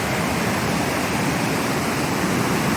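Alsea Falls in Oregon pours in a steady, loud, unbroken roar of falling water, a dense wash of sound that fills the whole moment with no voices.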